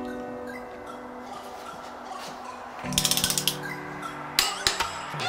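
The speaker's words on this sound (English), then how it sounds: "This stem nut here, I believe it gets torqued to 108 newton meters" A ratchet wrench torques the steering stem nut on a 2008 Honda CRF450R dirt bike, producing a quick series of sharp metallic clicks in a burst, then a few more clicks, close and clear with no talk.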